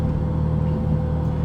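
A Renault Megane RS engine drones in a steady, low rumble heard from inside the car, loud and unbroken throughout.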